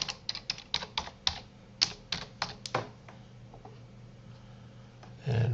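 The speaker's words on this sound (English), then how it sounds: "Type in bibliography." Rapid bursts of keystrokes on a computer keyboard while entering text into a Word business report, a quick run of clicks, then a pause with a few scattered taps, close and fairly quiet, with no voices.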